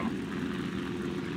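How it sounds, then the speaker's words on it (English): Enemy aircraft engines in the War Thunder combat game, a steady low droning propeller hum that holds at a constant level throughout, with no voices. "Where's other enemy aircrafts? I hear them."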